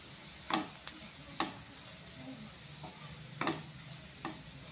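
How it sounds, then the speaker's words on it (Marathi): Grated coconut being stir-fried in a pan for dhaba-style dum aloo, heard as a soft sizzle with a few sharp scraping taps of a spatula against the pan at irregular intervals. "याच्यामध्ये आता आपण किसलेलं खोबरं टाकून घेऊया, कारण तेही आपल्याला परतून घ्यायचं याच्यामध्ये"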